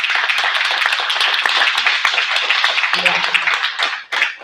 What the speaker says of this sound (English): if we could just give DeJ a round of applause